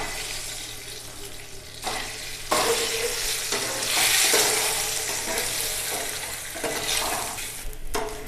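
Eggs added to fried masala for egg biryani give a steady sizzle in the pan, with stirring and clinking throughout and a brief tap-water rush. The sounds stay at moderate volume and nobody speaks.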